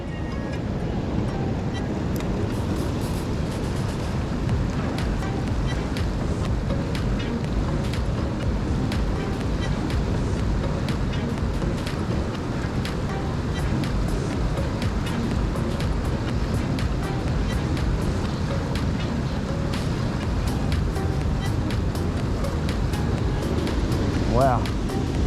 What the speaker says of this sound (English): the water is flowing way faster than I had expected